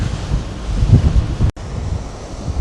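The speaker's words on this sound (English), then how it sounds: "Yeah, it's very windy up here." Strong wind on the front deck of a cruise ship roars steadily against the microphone, a loud continuous buffeting rush with a brief cutout midway.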